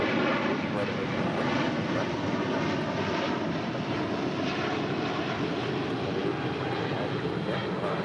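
An airliner at an airport runway sends out a steady, moderately loud engine roar that holds evenly throughout, while air traffic control radio voices talk over it.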